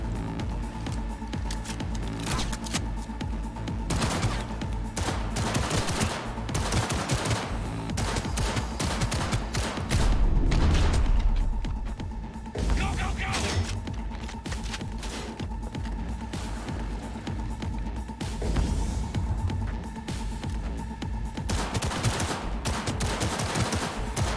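Heavy-recoil gunfire in the Cyberpunk 2077 video game comes as continuous rapid automatic bursts with deep thumps, loud and sustained for most of the stretch over a constant game soundscape.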